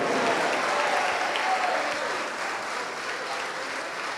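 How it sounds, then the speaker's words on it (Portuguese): A church congregation claps together in sustained, dense applause that stays steady and loud before easing slightly toward the end. "vamos aplaudir mais a Jesus"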